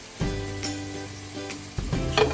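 A yellowfin fish steak drops into a hot pan with a sudden burst of sizzling that holds steady and close, then flares again as the fish shifts, with a light clink near the end.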